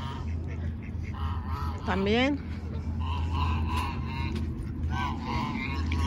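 Ducks and geese on a park lake, with one drawn-out honk rising near the middle over a steady outdoor murmur, plus a faint later call; people talk nearby.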